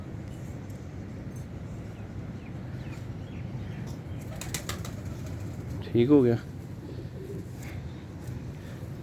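Pigeons give low, soft cooing under a steady background, with a brief rustle of wings and a short, louder flutter near the end while someone talks.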